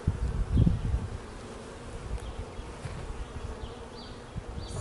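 Honey bees from a newly installed package buzz around an open hive, a soft continuous hum with individual bees droning past, one louder close pass early on.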